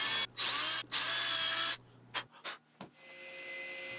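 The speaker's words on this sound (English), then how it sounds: "drill, glue, and screw it into place." A power drill bores into wood in a workshop: two loud, sustained whining bursts, then a few short, quieter spurts and a faint trailing hum.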